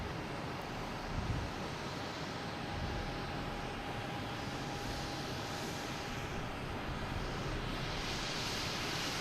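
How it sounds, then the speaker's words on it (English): An Alaska Airlines Boeing 737-800 takes off at Boston Logan Airport, its jet engines producing a continuous broad roar with wind rumble, steady and fairly distant, with no voices. "We have Alaskan Airlines lined up, heading to San Diego. 737-800, flight 389. That should be getting out of here any second now."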